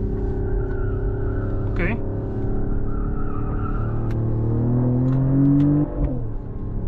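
A 2025 Mercedes GLE 53 AMG hybrid coupe pulls through a sharp corner in low gear. Its steady engine drone swells into a rising rev, heard from inside the cabin, with a brief spoken word.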